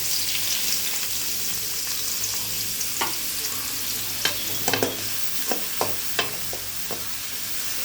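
Onions sauté in hot oil in a pan for egg noodles, a steady soft sizzle under a run of sharp scraping and tapping stirs that grows busier toward the end.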